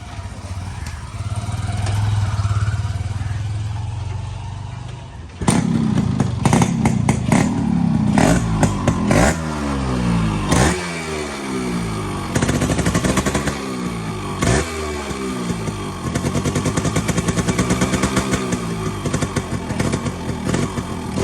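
A restored Yamaha RX135 two-stroke motorcycle starts after a low hum, then idles and blips through the silencer in loud, close, crackling revs with rhythmic rising and falling pops.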